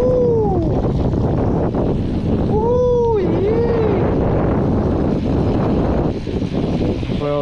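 Steady, loud wind buffeting a microphone outdoors, with rising and falling whistling tones passing through, continuous for the whole stretch.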